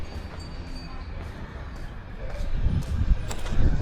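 A small train passes at a theme-park-like spot in Thailand, its low rumble and rattling growing louder toward the end over a steady background wash.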